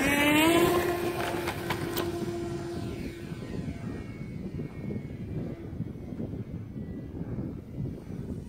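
A beginner foam RC airplane with a cheap $5 motor whines past outdoors, a high buzzing pitch dropping as it flies away and then a distant, faint drone under wind noise.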